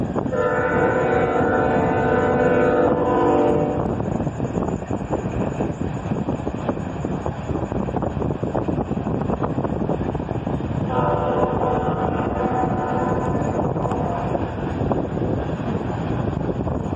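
A Norfolk Southern freight train led by an ET44AH with an SD40E trailing roars past close by. Two long, loud horn blasts sound over a constant heavy rumble of wheels and engines, buffeted by wind noise.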